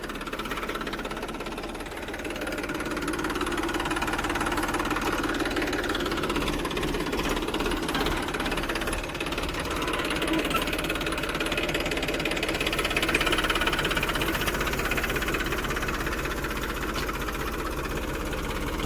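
A tractor engine runs in a farm field, a loud, continuous low rumble with a knocking, chugging texture that swells slightly midway and holds steady throughout.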